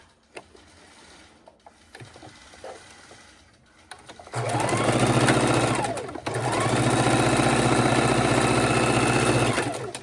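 After a few quiet seconds of small handling sounds, a sewing machine starts up close and loud, stitching scrappy quilt pieces in two long continuous runs with a brief dip between them.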